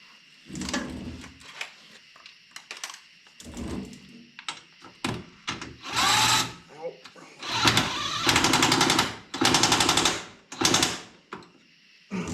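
Impact wrench tightening a nut on the rear spring of a Yamaha Rmax Bandit off-road vehicle, several loud close rattling bursts in quick succession, with someone talking in between.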